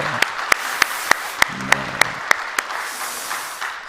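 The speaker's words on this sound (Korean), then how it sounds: "하나님께 영광의 박수를 돌리겠습니다" A church congregation gives a short burst of applause in praise after a Sunday worship sermon, heard as a fairly even run of about a dozen distinct, evenly spaced claps that fade into soft room ambience.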